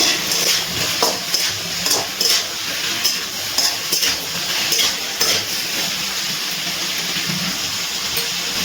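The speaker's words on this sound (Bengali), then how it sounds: "ডাঁটাগুলো দিয়ে একটু নাড়াচাড়া করে নিচ্ছি।" Malabar spinach stalks stirred in hot oil in a pan, a soft continuous sizzle with scraping and light utensil clinks against the pan, steady and close.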